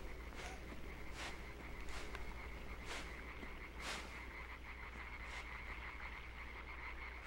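Frog croaks sound in the dark side-scrolling game LIMBO, a series of short, faint croaks spaced irregularly over a steady low background hum, with no talking.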